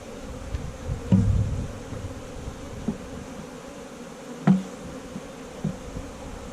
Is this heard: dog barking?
no